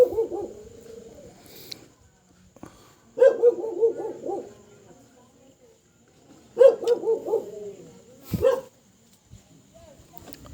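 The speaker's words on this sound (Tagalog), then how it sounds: "Maingay ang aso sa pag voice over natin mga idol." A dog in a rural countryside setting bays in three loud, drawn-out bursts of howling barks spaced a few seconds apart, close by and dominating the quiet between them.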